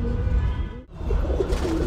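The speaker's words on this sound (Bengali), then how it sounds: "পাশের বাড়ির আন্টির কবুতর খুব ডিস্টার্ব করে" Pigeons coo nearby in low, throaty repeated calls with a brief pause in the middle, fairly loud and close, with no voices heard.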